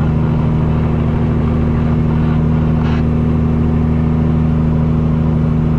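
A custom Peterbilt truck pulling a hazmat load, its engine droning steadily and loudly from the cab as the throttle eases off, with no talk.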